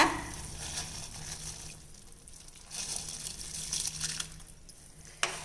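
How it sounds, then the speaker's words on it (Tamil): A pot of water for Tamil-style rice and dal bubbles and seethes at a rolling boil, a soft steady hiss with faint surges, heard alone and close. "இப்போ பாருங்கள் தண்ணி நல்லா கொதிச்சு வருது"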